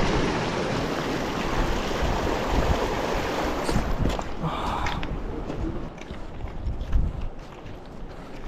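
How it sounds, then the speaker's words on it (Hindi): Steady rushing water of a glacial stream in the Karakoram roars close by, a dense continuous wash of fast water with faint scattered knocks near the end. "पानी का शोर सुनाई दे रहा है जैसे जैसे हम नजदीक आ रहे हैं।"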